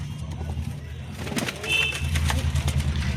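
A pair of Kokila pigeons coos at close range, deep throaty pulses repeating steadily while a faint chirp and light background noise sit above.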